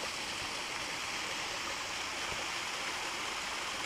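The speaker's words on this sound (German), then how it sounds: "Ein kleiner romantischer Wasserfall." Small Spiegeltaler waterfall in the Harz, a steady close rush of falling water and splashing stream, even and continuous with no voices.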